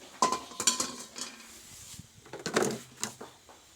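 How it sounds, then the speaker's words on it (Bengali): A metal karai set down on a stove, with several sharp clanks and knocks of cookware in an irregular rhythm, close and moderately loud, no voices. "এবার বসিয়ে নেবো এই কড়াইটা"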